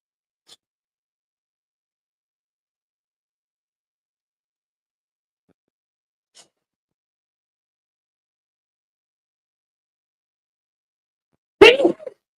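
A single sharp sneeze bursts out near the end of a long, mostly silent stretch, loud and close, preceded only by two faint ticks.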